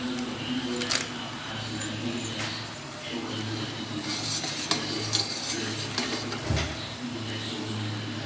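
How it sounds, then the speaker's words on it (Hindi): Kheer simmering in a pot over low heat and being stirred, a steady bubbling and scraping texture with occasional utensil knocks against the pot, continuous and close. "हम हल्की आंच पे इसको 20 मिनट के लिए पकाएंगे।"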